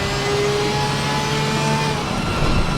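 A Porsche race car, number 7, circles wet Watkins Glen in Assetto Corsa Competizione, its engine a steady, loud mid-pitched drone with a slight surge near the end, alone without voices.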